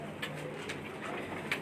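Pigeons cooing on a rooftop, soft repeated low coos with a few faint chirps, steady and close over a continuous outdoor background murmur.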